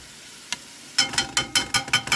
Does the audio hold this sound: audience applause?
no